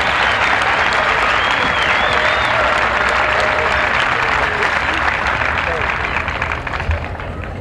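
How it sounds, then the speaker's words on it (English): A large crowd at a commencement ceremony for the Class of 1995 breaks into loud, sustained applause that fills the whole stretch and tapers slightly at the end, with faint voices mixed in. "A round of applause."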